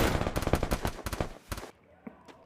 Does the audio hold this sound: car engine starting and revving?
no